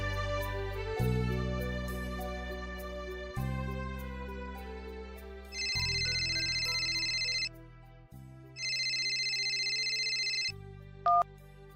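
A phone rings with an incoming call, a repeating electronic ringtone melody in steady bursts with short pauses, close and clear with no talking.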